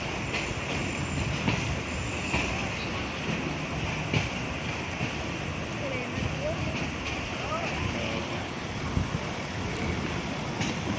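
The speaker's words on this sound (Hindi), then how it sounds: "ट्रेन की स्पीड काफ़ी कम हो चुकी है, यानी कि ब्रेकें लगने ही वाली हैं।" A passenger train on the Faisalabad–Lahore line slows as it nears the station platform, giving a steady loud rumble of wheels and carriages with faint metallic squeals, heard from on board with people talking in the background.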